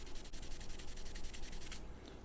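A Scotch-Brite pad scrubs the finish off a wooden revolver stock, making quick, close, rhythmic abrasive rubbing strokes that stop just before the end.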